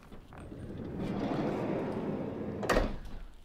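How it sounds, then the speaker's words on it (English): A Citroen Relay panel van's sliding side door rumbles along its track, ending in a sharp clunk as it latches; moderately close, no talking. "You've got a side loading door."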